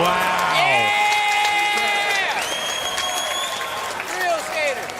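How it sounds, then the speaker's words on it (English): A crowd at an SLS skateboarding contest in Jacksonville screams and cheers after a big trick, loud whoops and rising shouts layered over applause, with a commentator's voice close by and the roar fading slightly before another burst near the end. "I'm hearing the crowd below me screaming"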